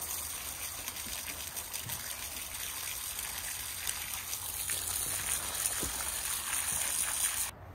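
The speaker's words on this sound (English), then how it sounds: "I'm going to go ahead and add some water to mix up the concrete in the base" Water is poured into concrete mix at the base of a fence post, making a continuous close trickling and gushing sound that swells slightly before stopping abruptly near the end.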